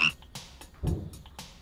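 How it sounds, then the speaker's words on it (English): A cartoon frog gives a series of short croaks in an animated kids' train series, close and clear, with several quick bursts spaced through a second and a half. "Oh, you found our missing frog."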